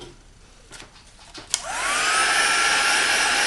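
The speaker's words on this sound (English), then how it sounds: "heat gun" A heat gun blasts to life after a few faint clicks and then blows a steady, loud airflow roar while drying a painted name sign.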